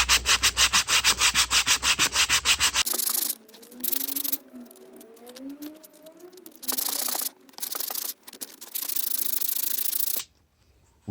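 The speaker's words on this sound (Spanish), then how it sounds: "con una lija se puede hacer con eléctrica, pero aquí no me cabía, entonces lo hice manual" Wooden kitchen cabinets are sanded by hand with sandpaper in bursts of close, raspy rubbing strokes. A rapid rhythmic scrubbing opens the passage, and short gaps of silence separate the later strokes.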